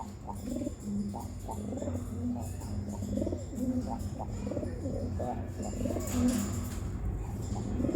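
Breeder pigeons coo in soft repeated low calls close by, a steady rhythm of throaty murmurs continuing throughout, with someone talking over them at times.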